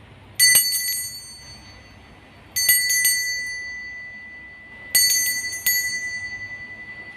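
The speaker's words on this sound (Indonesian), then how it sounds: "kita akan memulai dengan ditandai lonceng berbunyi" A bell rung to mark the start of a zodiac reading sounds three times, each a bright, sharp double strike that rings out and fades, standing clearly alone against quiet background.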